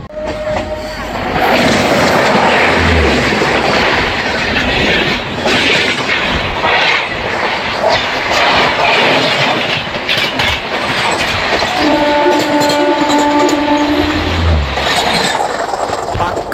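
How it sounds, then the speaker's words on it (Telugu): Train 17258 Kakinada Port–Vijayawada pulls out of Tadepalligudem station, a steady loud rumble of wheels and carriages with rhythmic clickety-clack over rail joints, heard continuously close by throughout. "మొత్తానికి మన ట్రైన్ అయితే తాడేపల్లిగూడెం అయితే ఇప్పుడైతే బయలుదేరిపోయిందండి"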